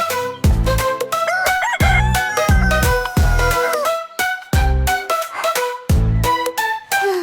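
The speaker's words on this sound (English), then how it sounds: "Cock-a-doodle-doo." A rooster's cock-a-doodle-doo woven into a children's nursery rhyme song, loud and up front, repeating over a steady musical beat with sung tones.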